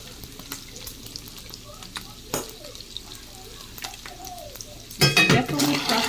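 Chunks of beef frying in fat in a pan, a steady close sizzle with scattered clicks and stirring scrapes that grow louder and busier near the end.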